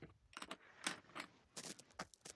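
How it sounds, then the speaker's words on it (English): Small plastic and wooden board game tokens clatter as they are dropped into bags before a game of Feed the Kraken, a series of close, light rattling bursts of irregular rhythm with brief pauses between them. "first we need to put in all of these tokens into these bags"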